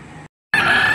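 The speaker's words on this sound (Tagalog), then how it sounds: "Ayan mga idol yung mga parada ng manok dito." Roosters crow at a gamecock market in Padre Garcia, Batangas, loud and close, two drawn-out calls separated by a short silence, with no talk.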